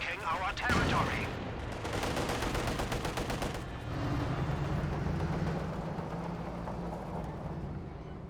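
Gunfire rattles through a Company of Heroes 2 battle: rapid machine-gun bursts and sharp shots crackle in dense volleys, followed by rumbling engine and battle noise that continues underneath.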